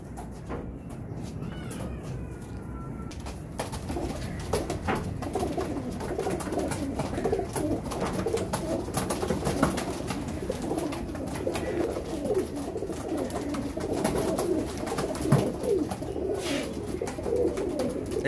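Rampuri pigeons coo steadily in soft, overlapping murmurs, with several birds calling close by over a busy background of rustling and faint noise.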